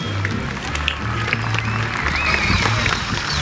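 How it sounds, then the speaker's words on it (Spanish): Crowd applause welcomes two baseball teams, Chicataneros de Huatusco and Águilas del Tejar de Veracruz, at a stadium, a steady wash of clapping and cheering heard at a distance under a droning public-address voice. "vamos a recibir con un fuerte aplauso a los dos equipos"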